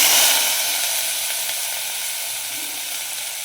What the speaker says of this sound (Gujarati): નાખી દેવી આપણે એમાં જીરું. હવે નાખી દેવી હિંગ.